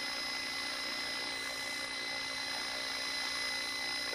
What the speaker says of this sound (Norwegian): Nå er det GPS-en som styrer helikopteret.